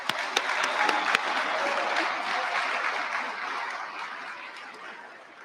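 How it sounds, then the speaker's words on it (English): At a military skills competition awards ceremony, a crowd applauds cadet athletes with continuous clapping, a few sharp claps standing out at the start, fading gradually over five seconds. "How about a round of applause for all of our cadet athletes who participate in Sandhurst this year?"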